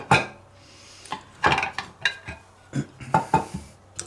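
Unissued German army surplus mess kit pot handled by hand, a series of sharp metallic clinks and clanks at uneven intervals, close and fairly loud, with no talk.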